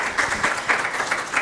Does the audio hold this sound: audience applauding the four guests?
yes